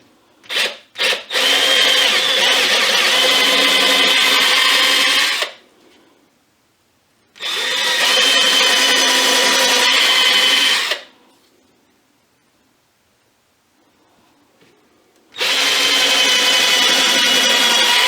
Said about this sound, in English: So go ahead and put a pre-drill.